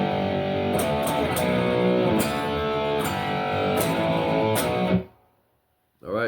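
Distorted electric guitar playing the solo section of a song, with a dense, sustained overdriven tone and rhythmic picked phrases for about five seconds before cutting to near silence, then a brief return at the end.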